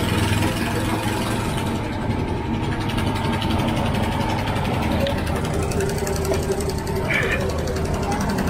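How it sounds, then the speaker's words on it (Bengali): A fishing trawler engine idles with a steady, low, throbbing drone that fills the whole stretch, while someone talks over it. "এই যে আমি উঠছি ট্রলারের ওপরে"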